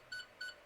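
Two short, high electronic beeps from a toy Fourteenth Doctor sonic screwdriver, evenly spaced and faint, with quiet background between them.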